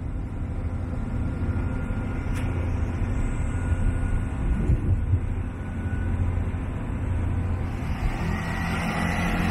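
Steady low rumble of a Great Western Railway train interior while running, broadband rolling noise with a faint high whine and a brief click, continuous and even throughout.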